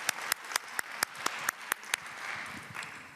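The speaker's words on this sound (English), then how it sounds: "would you please give her a very, very warm round of applause" Sparse clapping from a conference audience in a hall, about ten sharp evenly spaced claps standing out clearly, then thinning into faint, scattered claps.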